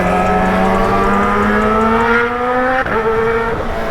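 A Kawasaki ZX motorcycle's exhaust revving loudly and close, its pitch climbing steadily, dipping with a sharp break near the end, then holding a high, raspy tone.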